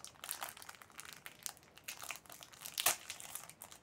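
Close, crisp crinkling and tearing of a hockey extraliga trading card pack's plastic wrapper, with a sharp rip near the end and no talking.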